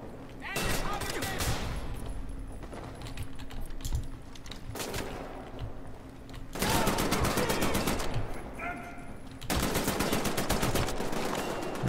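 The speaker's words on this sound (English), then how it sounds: "This guy didn't hear the onslaught of bullets going on." Rapid automatic gunfire in the video game Wolfenstein: The New Order, coming in several long, loud bursts of dense shots separated by shorter pauses.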